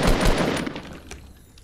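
Rapid bursts of automatic gunfire in Fortnite, loud and dense at first, then thinning into a few scattered shots as it fades.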